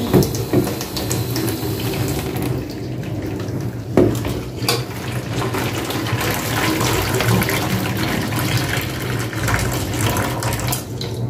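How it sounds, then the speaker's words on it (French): Hot water pours steadily into a container of coffee for dyeing paper, a continuous close splashing wash with a few faint clinks, lasting throughout. "Et je viens rajouter de l'eau chaude."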